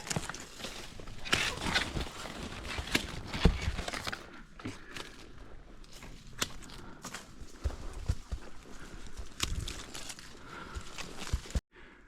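A mare walks along a mountain path, her hooves striking the ground in an uneven clip-clop, close up. Scuffs and rustles come with the steps, and there is faint background noise.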